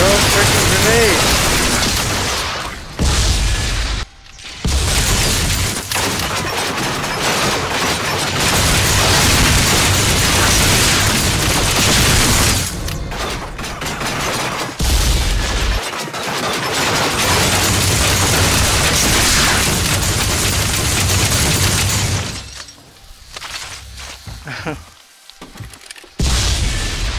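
Grenade blasts in the VR cover shooter Street of Sanctuary land as loud, dense booms and bursts of gunfire that run almost continuously, thinning into a quieter stretch near the end.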